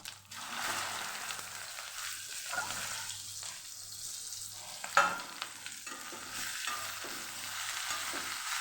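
Okra tempered in hot oil with cumin and asafoetida gives a continuous close sizzle, broken by scraping stirs of a spoon in the pan, with no talking.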